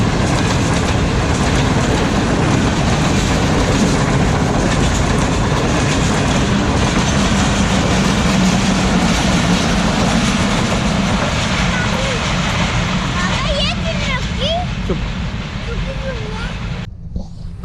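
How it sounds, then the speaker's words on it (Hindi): The Sir Syed Express, 36 Down, rumbles loudly through Gujar Khan railway station, steady clattering wheels and rolling carriages dominating throughout, with brief squeals near the end as it passes; a voice speaks over the noise. "sir Syed express 36 down pass on हो रही है गुजरखान रेलवे स्टेशन से"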